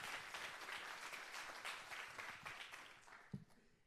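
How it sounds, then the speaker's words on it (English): Applause from an audience at an MBA consulting challenge event, a steady wash of many hands clapping at moderate distance that thins toward the end, with one louder bump near the close. "Give them a big round of applause."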